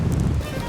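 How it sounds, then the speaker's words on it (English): Strong winter wind in Finland buffets the microphone with a loud, low rumbling rush that dips slightly midway through the brief moment. "It's fucking windy, that's what it is!"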